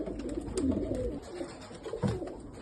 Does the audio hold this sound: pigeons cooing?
yes